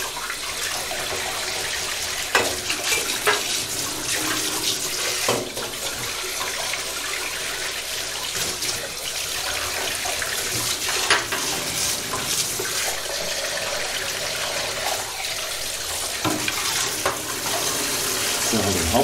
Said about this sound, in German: das kannst du aber genauso gut am Waschbecken machen, ist die Züge einmal durchspülen